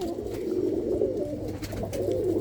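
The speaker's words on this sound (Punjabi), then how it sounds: "ਆਹ ਕਬੂਤਰ ਦੇਖੋ" Pigeons, one a teddy type and one blue, coo continuously and loudly up close, a dense, throaty warble with overlapping voices and no pauses.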